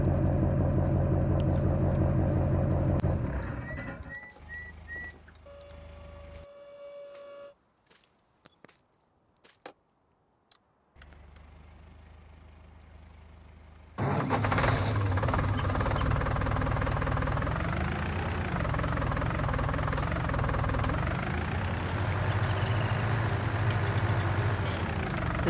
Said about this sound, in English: 4520, perfect little compact tractor.